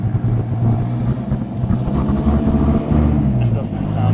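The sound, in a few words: 1995 Dodge Viper RT/10 driving into the workshop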